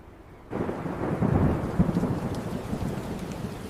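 Steady rain starts suddenly and keeps pouring, a dense hiss of drops with a low rumble underneath; no voices.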